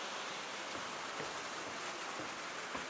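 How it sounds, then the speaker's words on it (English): Steady rain hisses down, with occasional heavier drops pattering on a nearby surface, loud and continuous. "Oh my goodness, it's raining."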